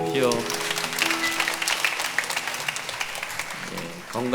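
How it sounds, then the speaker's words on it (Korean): A church congregation at a Sunday morning worship service breaks into a few seconds of dense, close clapping, with a voice heard just before and as it fades out. "박수해 주십시오"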